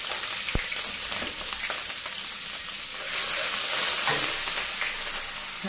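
Onion and garlic paste sizzles in hot oil in a home kitchen, a close, continuous hiss and crackle with a single sharp pop early on. It swells slightly midway, and nobody speaks.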